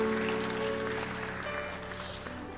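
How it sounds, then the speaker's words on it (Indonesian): A church congregation applauds together in a steady wash of clapping that slowly fades over a couple of seconds, heard at a moderate distance with no voices on top. "Ada tepuk tangan buat Tuhan kita yang baik"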